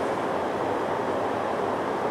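A Sotetsu rapid train bound for Ebina runs steadily, heard from inside as a continuous low rumble and rushing noise with no voices.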